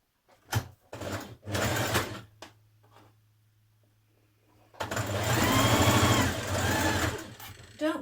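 A sewing machine stitches the shoulder seams of a dress with a 1.5 centimetre seam allowance, running in a short burst and then a longer steady whirring stretch, with brief pauses between runs.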